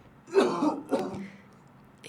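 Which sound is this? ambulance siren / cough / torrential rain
cough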